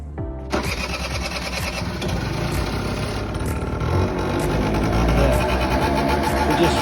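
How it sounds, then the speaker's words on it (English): A Piaggio two-stroke scooter engine catches and runs, loud and close, with blips of throttle that rise and fall before it settles into a steady, buzzing idle. "So now we just give it a few pumps of the throttle."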